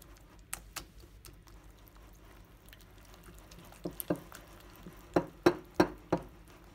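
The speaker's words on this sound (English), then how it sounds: "Now I'm going to add the egg one by one. Okay, mix." Brownie batter being stirred in a bowl after eggs go in, with soft irregular taps and clinks of a utensil that grow louder and sharper toward the end, close up and without talk.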